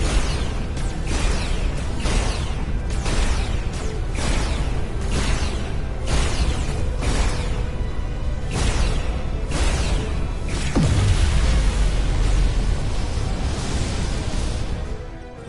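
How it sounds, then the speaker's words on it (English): Dilithium crystals blow apart in the Star Trek Resurgence video game: a series of evenly spaced whooshing bursts rolls by, then a deeper, sustained loud rumbling blast takes over near the end. "Whoa! Dilithium explosion!"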